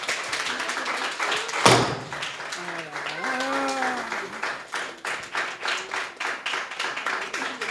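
Guests at a church birthday celebration clap after the cake cutting, with dense rhythmic applause running throughout the clip, one loud thump near the start, and voices and a sung tone rising above the clapping.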